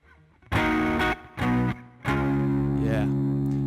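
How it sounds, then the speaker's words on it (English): Electric guitar played through a Minotaur distortion pedal, a Klon Centaur clone, in Line 6 Helix Native, loud overdriven chords struck three times, the last one left ringing and sustaining. "Minotaur, the distortion pedal there, which I'm guessing is a clone centaur."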